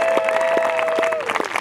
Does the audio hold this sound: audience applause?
yes